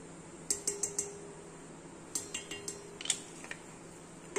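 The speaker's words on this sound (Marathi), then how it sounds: "आता मी हे दोन्ही एकत्र करून घेते।" A spoon clinks against a metal pot while milk and milk powder are stirred together for basundi, giving bursts of quick, light metallic taps with short pauses between them.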